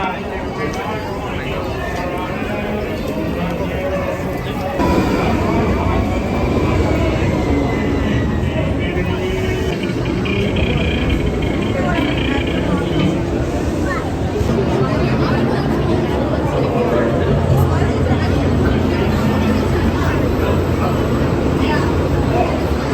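Radiator Springs Racers ride at Disney California Adventure, a loud rumbling roar of the moving ride vehicle that swells after a few seconds and carries on, with crowd babble and voices mixed in.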